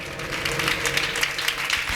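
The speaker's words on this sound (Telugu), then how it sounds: "కొట్టండి చప్పట్లు గట్టిగా" A church congregation claps loudly during a sermon, producing a dense, continuous patter of many hands that stays at an even level from start to finish.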